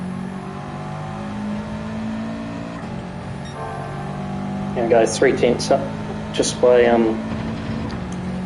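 A race car engine in Gran Turismo 7 hums along before rising in several sharp revving bursts on the Dragon Trail circuit, while someone talks over it.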